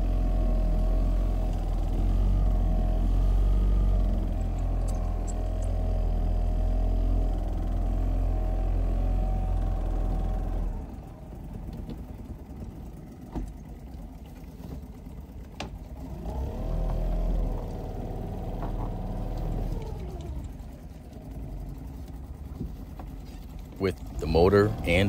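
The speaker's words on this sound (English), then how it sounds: "So there goes the motor. 2-stroke, heading out, motor sailing." A two-stroke outboard motor running on a daysailer while motor sailing out, a steady low drone up close, quieter after the first stretch, with a person talking over it.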